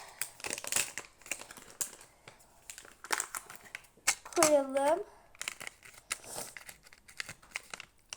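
Repeated crinkling and rustling of a plastic bag in irregular bursts, close up, with a person speaking briefly over it.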